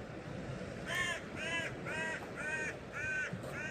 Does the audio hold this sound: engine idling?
no